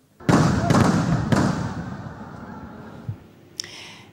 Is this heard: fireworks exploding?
yes